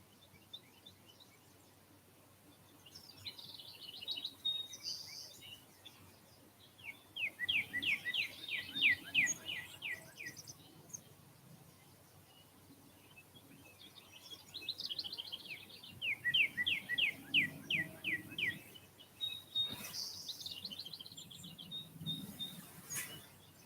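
A songbird sings from a small tree in a neighbor's yard, repeating bursts of quick chirping trills separated by pauses, moderately distant and fairly faint against quiet outdoor background.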